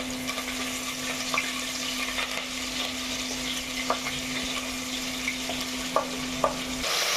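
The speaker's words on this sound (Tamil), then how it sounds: "கடுகு பொரிஞ்சிச்சு, அதனால நம்ம வெங்காயம், கருவேப்பிலையும் பண்ணலாம்." Onions and curry leaves sauté in hot oil with popped mustard seeds for a country chicken kuzhambu, giving a steady close sizzle with a few sharp crackles and pops and a faint constant hum behind it.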